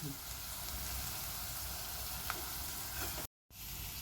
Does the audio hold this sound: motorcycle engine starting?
no